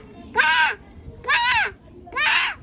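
A person imitates a crow with three harsh, evenly spaced caws, close and fairly loud against a low background hum.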